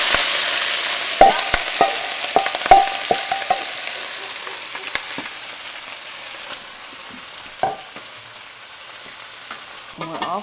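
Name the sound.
shrimp shells frying in hot oil in a pan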